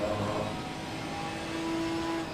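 A Ginetta race car accelerates around the top of the Bathurst circuit during a 12-hour race weekend, its mid-pitched engine droning steadily and loudly with rising gear notes throughout, with no talking.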